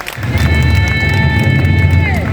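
Loud, dense applause from a large crowd welcoming a speaker at an event, with sustained musical tones ringing over the clapping throughout.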